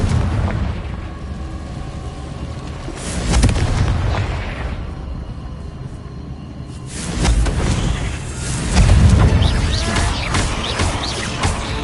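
Confringo fire-blast spell cast in the video game Hogwarts Legacy, producing heavy booming blasts with rumbling low-end bursts around the middle and again later, loud against a constant game background.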